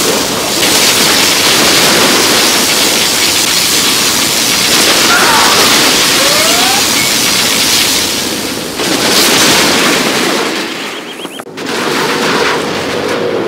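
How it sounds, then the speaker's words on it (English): A particle cannon strike in Command & Conquer, a loud sustained roaring blast with crackling bursts and rumbling that fades briefly near the end before resuming. "Particle cannon activated."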